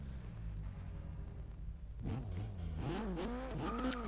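A Toyota AE86 set up as a drift car revs hard in Forza Motorsport 6, its engine climbing and falling in several quick bursts after a steadier low hum, close and fairly loud.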